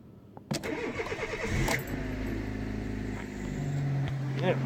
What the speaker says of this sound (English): Right, so the engine's running.